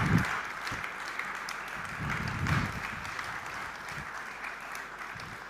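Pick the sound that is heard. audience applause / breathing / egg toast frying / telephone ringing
audience applause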